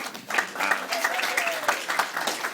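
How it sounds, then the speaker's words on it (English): A Catholic mission gathering's audience claps in a short burst of applause, a steady patter of many hands with a voice speaking faintly over it. "we can clap for her, too"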